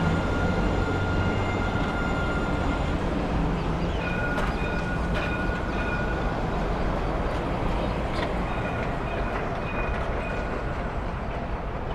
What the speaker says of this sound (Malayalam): ഇതാണ് ട്രാം.